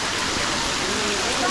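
Water drops run down a rock face at the Gebius waterfalls near Gelendzhik, a steady broadband hiss of falling and splashing water, close and continuous throughout.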